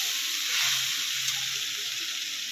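Mixed vegetables with tomato and green chili fry in a pan for a vegetarian five-vegetable dish, giving a steady, close, bright sizzle that holds evenly throughout with no voices.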